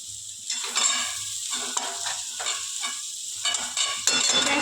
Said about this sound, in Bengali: এবারে এইগুলো একটুখানি সব একসঙ্গে ভাজবে